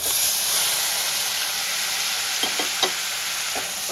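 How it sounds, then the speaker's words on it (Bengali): Chopped medium tomatoes and two green chillies hit frying onions for dhaba-style pav bhaji masala, raising a loud, steady close-up sizzling hiss, with a few light stirring taps near the end. "এবার আমি চপ করে রাখা 3টে লাল লাল মিডিয়াম সাইজের টমেটো, সঙ্গে আমি 2টো কাঁচা লঙ্কাও চপ করে নিয়েছি, দিয়ে দেবো"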